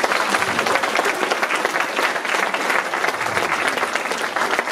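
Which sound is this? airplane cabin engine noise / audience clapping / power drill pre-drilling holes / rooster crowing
audience clapping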